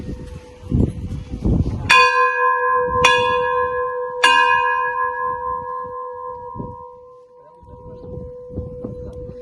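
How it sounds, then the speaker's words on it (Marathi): A large temple bell is struck three times in quick succession, each strike ringing out with a long metallic hum, alongside muffled background noise, at Mount Abu. "ही घंटा आहे."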